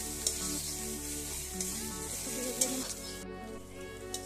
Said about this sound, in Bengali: হালকা করে ভেজে নিয়েছি মশলাটা।